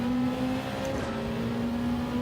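A drift car engine in Gran Turismo 7 held at very high revs, a steady continuous whine and drone with no breaks and no voices.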